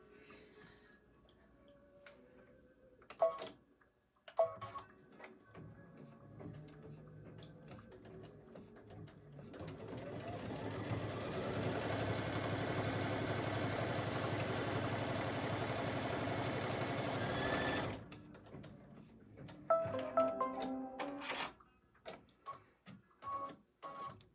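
An embroidery machine stitches a single line on fabric for a flip-and-stitch baby block, a steady mechanical whirring hum for about eight seconds, framed by scattered clicks and handling noises before and after.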